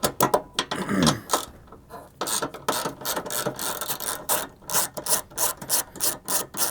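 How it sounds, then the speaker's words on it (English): A hand ratchet with an extension and 10 mm socket loosens a headlight ballast mounting bolt on a car, giving rapid, close, loud clicking in bursts with brief pauses between strokes. "So you need your extension and your ratchet with your 10 millimeter socket."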